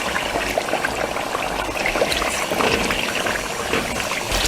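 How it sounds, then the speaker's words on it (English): Tomato puree pours into a pot for Ghana jollof rice, making a continuous close, wet, gurgling stream that runs steadily from start to finish with no talk. "So now we are adding our tomato puree."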